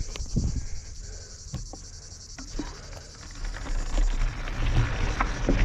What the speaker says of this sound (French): Bonjour les mouches.